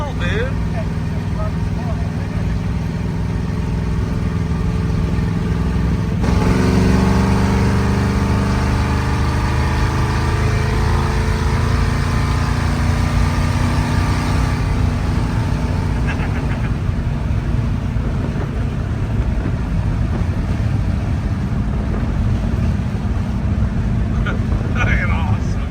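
A hot rod truck from Steve O's Rods roars loud and close during burnouts, its engine holding a dense, sustained snarl that swells heavier partway through and never drops off.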